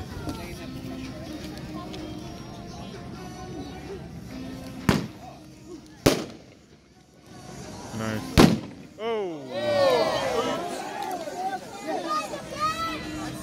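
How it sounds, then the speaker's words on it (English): Red Apple 25-shot platinum willow firework cake, 500g, going off with several loud sharp bangs and bursts amid crowd chatter, followed by crackling, whistling trails and rumbling. "This is a raw 25 shot platinum willow cake"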